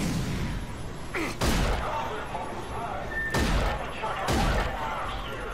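Explosions in the video game Rage as a bomb cache is blown up: a few heavy booming blasts with loud, sustained rumble, set against constant background noise.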